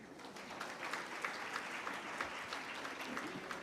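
Dense, even applause from a large audience at the National Youth Awards 2016-17 ceremony in India, a continuous wash of clapping hands that holds steady throughout.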